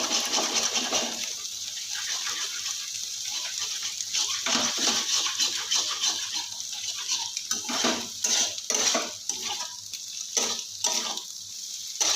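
Egg stirred into vegetables in a frying pan: a steady sizzle runs throughout, broken by repeated scraping and clinking strokes of a spoon against the pan, close and moderately loud.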